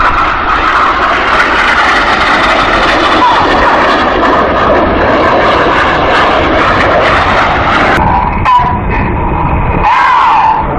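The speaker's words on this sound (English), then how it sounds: "The synchro pair are coming back. They're going to descend to their display height of just 100 feet." Aerobatic display jets roar past at low height over Farnborough Airshow in 2014, a loud, continuous engine howl that shifts pitch as the aircraft pass overhead and fade.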